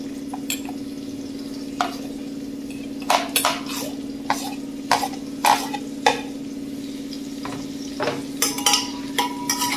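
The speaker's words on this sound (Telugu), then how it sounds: "ఈ బ్రౌన్ కలర్లోకి వచ్చే వరకు ఫ్రై చేసుకోండి ఆనియన్స్ని." Onions and green chillies frying with whole spices in a pan for veg biryani, a soft sizzle under repeated sharp clinks and scrapes of a metal spoon against the pan, with a steady hum behind.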